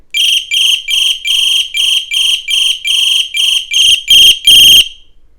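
Piercing electronic buzzer of a Ycbright YC8001 flat EDC flashlight, sounding about a dozen short shrill bursts in an even pulsing rhythm, the last few louder and harsher, close and with no voices.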